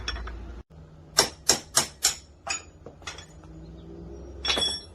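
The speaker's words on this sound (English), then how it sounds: "Knock them out with a hammer." Sharp metallic strikes of a hammer on a punch driving the steering bearing races out of a Honda 200E motorcycle's head tube: a quick run of four ringing blows, then a few softer taps and a last hit, close up.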